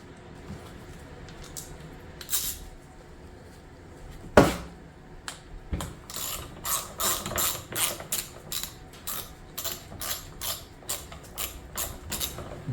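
Screws being driven in by hand on a snow blower auger and worm gear housing, a series of close, rhythmic ratcheting clicks after a sharp metallic knock, with scattered tool handling.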